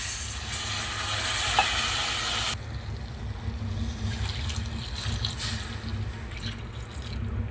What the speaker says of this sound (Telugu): ఒకసారి గరిటెతో బాగా తిప్పుకుందాము.